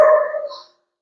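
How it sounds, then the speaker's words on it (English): A single short dog bark or whimpering yelp from dogs nearby, fairly loud and tonal, fading out within about half a second into silence. "So I hear those dogs over there."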